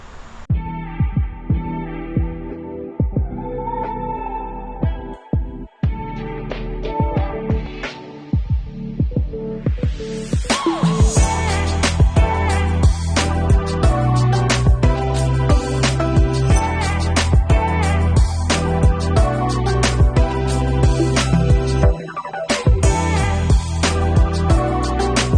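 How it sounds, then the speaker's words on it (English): Steady abrasive whirring of a wire wheel scrubbing a 1950 Plymouth Special Deluxe frame, continuous and close, with intermittent scraping bursts early and a louder, denser grinding from about ten seconds on. "You don't have to watch me wire wheel this."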